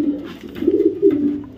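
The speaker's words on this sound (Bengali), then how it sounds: "ইরাকের একটা নর কবুতর।" A young 2024 male Iraqi pigeon coos in low, rolling phrases that swell and fade, close by and steady with no talking.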